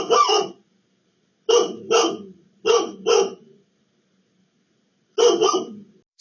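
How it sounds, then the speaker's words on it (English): A dog barks in short, sharp bursts, some doubled, with clear silent gaps between them, fairly close and alone with no talking. "Their dog walks into the frame near top left of video and barks at what looks to be an orb"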